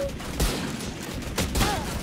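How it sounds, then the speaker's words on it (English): Bursts of gunfire in the tactical shooter game Valorant, a couple of sharp volleys about a second apart over a steady noisy background, moderately loud with no talk. "Why do I hear 7 gunshots?"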